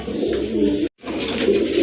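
A pair of black Mumbai pigeons coos close by in low, throaty, rolling calls, broken by one short pause.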